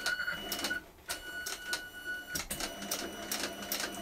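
Cylinder arm sewing machine stitching a leather notebook cover, slowly taking a corner: quiet bursts of rapid mechanical clatter start and stop in short runs, fairly close and low in level.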